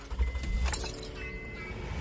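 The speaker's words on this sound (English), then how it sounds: "the vehicle up." Keys jangle briefly, followed by the starting of a 2010 Honda Odyssey engine, a short close clink and rattle over a low motor hum.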